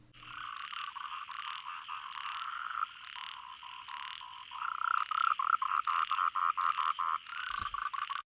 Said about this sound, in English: As far as the background sounds, it was more frogs than anything else